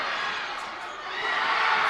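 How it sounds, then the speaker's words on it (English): Crusader home crowd cheering and roaring at a high school boys basketball championship game, after a blocked shot, a steady bright wash of many voices that swells toward the end. "Fitzwater, that gets the Crusader crowd into it."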